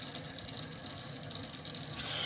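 Steady stream of filtered water running from a BRITA faucet-mount filter into a sink, a constant close gushing hiss with no voices.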